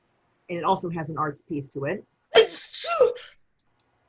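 A single loud sneeze bursts out during a Zoom webinar on arts advocacy, right after a stretch of a woman's speech, followed by a short vocal sound.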